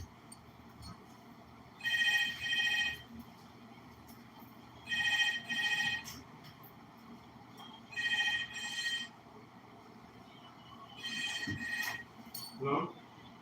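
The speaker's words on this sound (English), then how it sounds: "I'm getting a phone call from the hotel." A hotel telephone rings in four distinct double-burst rings spaced about three seconds apart, fairly clear over a quiet room with a faint low hum and a brief soft knock near the end.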